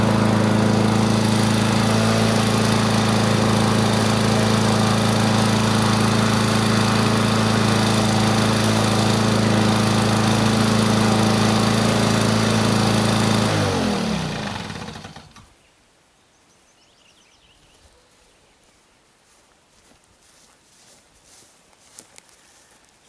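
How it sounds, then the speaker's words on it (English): A vintage Lawn-Boy lawn mower engine runs loud and steady, then sputters and cuts off, leaving near silence with faint background noise. "And letting the lawnmower run"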